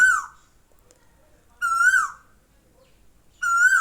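Asian koel calling outdoors, three loud rising whistled notes repeated at steady intervals of about a second and a half, clear and fairly close with quiet gaps between.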